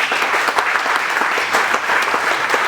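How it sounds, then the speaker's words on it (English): A church congregation claps for Jesus during a sermon, a dense, steady burst of many hands applauding close by without pause, no voices over it. "Clap for Jesus now"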